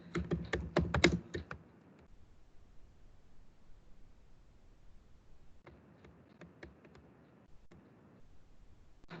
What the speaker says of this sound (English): I'm just typing the keyword machine learning.